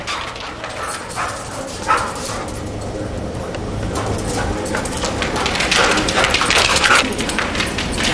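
Playing dogs at a first meeting give scattered yips and short barks over a continuous rustling, scuffling background, growing louder and busier toward the end.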